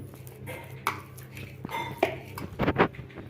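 Spoon or utensil clinks and scrapes against a bowl as a semolina (ravva) sweet mixture is stirred by hand, with irregular knocks and a few louder clatters toward the end.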